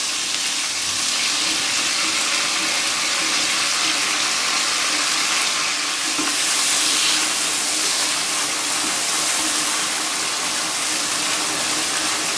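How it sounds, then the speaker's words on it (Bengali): Chicken with sauce fries over high heat for a Chinese-style dish, giving a loud, continuous close-up sizzle and hiss that holds steady throughout with no talking. "আমি একদমই হাই হিটে চিকেনটা ভেজে নিচ্ছি"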